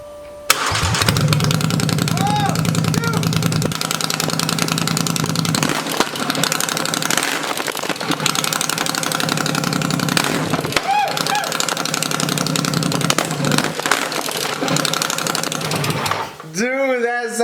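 A straight-piped four-wheeler ATV with an open header fires up and runs loud and close, with a raspy, throbbing exhaust, revving rises and falls, and a sharp whine at the end.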